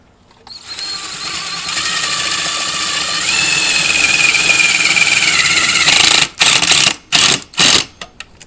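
A drill drives self-drilling screws into a metal electrical box for a relay, a steady whining motor hum with rising pitch for several seconds, then a few short separate bursts as the screw bites and seats.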